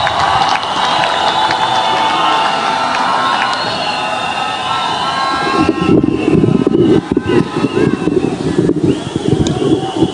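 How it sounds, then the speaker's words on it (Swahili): An outdoor crowd at a political homecoming event claps and cheers to welcome a cabinet minister. A voice speaks over the opening, then dense, loud applause with shouts takes over for the rest. "Kwa makofi naomba tuweze kumkaribisha Waziri Oparanya."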